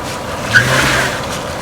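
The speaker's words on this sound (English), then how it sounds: "that old car with our tow strap just pulled it right up and in" An old car strains to pull a vehicle up with a tow strap, giving a loud engine rev with a brief squealing tire chirp partway through.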